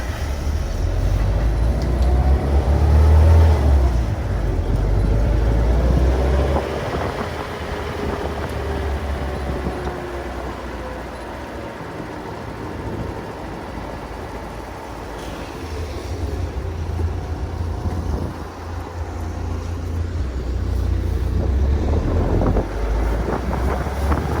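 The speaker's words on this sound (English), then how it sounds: "So here we go, using first gear." Engine of a 2020 Mahindra Roxor, untuned, pulling in first gear with 5.38 gears, a steady low rumble that swells and eases with wind buffeting throughout, close and fairly loud, no talking.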